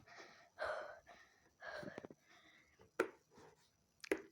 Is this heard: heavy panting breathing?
yes